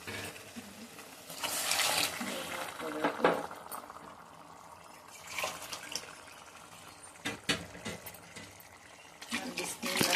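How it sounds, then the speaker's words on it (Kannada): Heated water poured into a pot of egg biryani, a splashing, gurgling rush of liquid with bursts of bubbling and clinks of the vessel, moderately close and fairly quiet. "ಬಿಸಿನೀರನ್ನ ಕಾಯಿಸಿಟ್ಕೊಂಡು ಹಾಕ್ಕೋತಾ ಇದ್ದೀನಿ."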